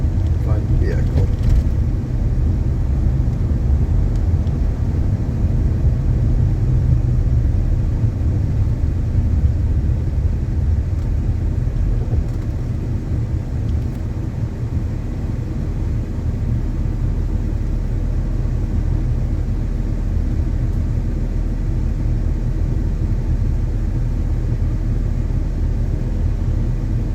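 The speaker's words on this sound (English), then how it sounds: "Hills are always fun to drive on as long as you have a fun vehicle." A car cruises over hilly streets in Duluth, Minnesota, its engine and road noise forming a steady low rumble that runs throughout, with a voice talking over it at times.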